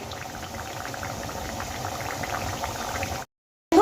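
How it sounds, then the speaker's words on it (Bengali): Potato-stuffed kachori deep-frying in oil, a dense continuous bubbling sizzle at steady volume, then a sudden drop to silence before a short burst returns. "তেলের মধ্যে আমি কচুরিগুলো ছেড়ে দিয়েছি"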